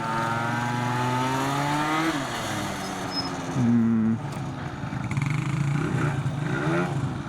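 A Stage6-tuned Yamaha BWS 70 scooter engine runs close by, a buzzing two-stroke idle with several rev rises and dips, one sharp higher blip midway, alone without talk.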